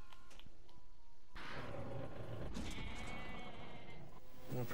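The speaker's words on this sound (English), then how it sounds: "Did you hear the goat?" Several loud bleats from a goat in the Jurassic Park pinball table of Pinball FX3, ringing out over electronic game sounds and machine noise.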